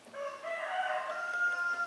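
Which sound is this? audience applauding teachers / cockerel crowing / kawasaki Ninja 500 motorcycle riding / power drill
cockerel crowing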